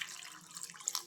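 Water runs into a vessel of chopped cucumber for majjige huli, a faint, steady splashing trickle with a few brighter droplet spikes near the end.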